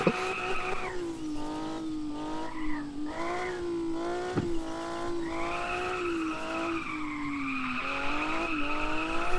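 A car drifts on a racing video game's drift map, its tires squealing in long, wavering screeches over a revving engine, loud and continuous with no talking.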